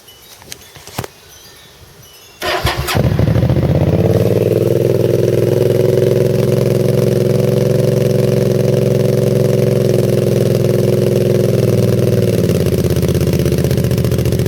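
A 2009 Hyosung GV650 motorcycle with an aftermarket HR1 exhaust fires up after a few clicks and idles loudly and steadily close by with a deep, throaty exhaust rumble, then settles slightly lower.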